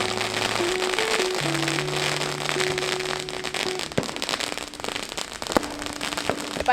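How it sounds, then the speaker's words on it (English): Outdoor New Year fireworks crackle and pop in a dense continuous barrage, with a few sharper bangs standing out near the end, loud and close against sustained background tones. "Fireworks scare me."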